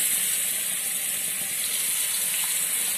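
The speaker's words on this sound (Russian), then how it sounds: "А мы вот сейчас лук поджарим." A steady, bright sizzle of onion frying in a hot pan, continuous and close, with no voices.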